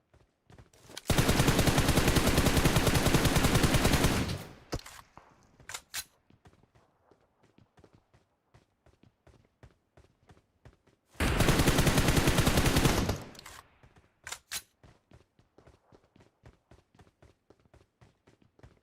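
Two long bursts of rapid automatic gunfire in PUBG Mobile, loud and dense, each lasting several seconds with a pause of scattered single shots and footsteps between them.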